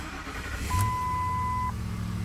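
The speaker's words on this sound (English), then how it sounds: "Now I should be able to start the vehicle," A car engine cranks and starts up close, with a steady electronic chime held for about a second over the low idle rumble after a check engine light repair.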